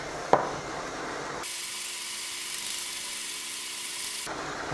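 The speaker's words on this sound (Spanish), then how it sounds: "La pistola esta de aire caliente la tengo puesta a 400 grados." A hot air gun set to 400 degrees blows a steady, close hiss of airflow while circling over integrated circuits during landing-light work on a model aircraft, with a brief clack near the start.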